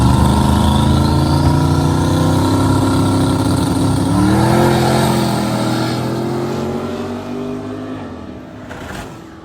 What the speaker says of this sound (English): Got a turbo truck versus nitrous truck.